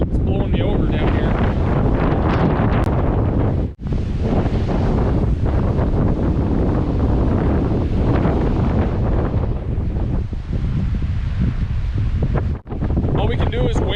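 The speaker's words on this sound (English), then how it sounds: "they weren't joking about the 30-mile-per-hour wind gusts." Strong wind gusting around 30 mph in the Boundary Waters wilderness buffets the microphone in a loud, continuous roar, with a couple of brief lulls between gusts.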